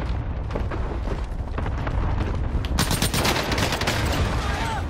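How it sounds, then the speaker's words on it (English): Precision airstrike in Call of Duty Warzone, a continuous barrage of booming blasts and crackling impacts that grows louder and denser partway through, with no talking over it. "Enemy precision airstrike, take cover!"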